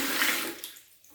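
Water from a freshly opened supply pipe gushing during a toilet inlet valve replacement, a strong broadband rush that tapers off toward the end of the short burst.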